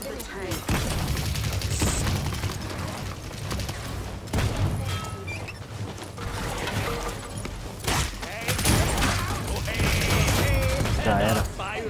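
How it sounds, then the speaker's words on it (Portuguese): Rapid bursts of gunfire crackle repeatedly in the game Paladins, with scattered thuds and shots under intermittent voices talking. "Aí, Tyra, tiro colorido aí"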